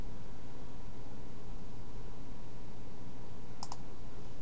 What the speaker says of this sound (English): Okay, so I'm going to click on this link.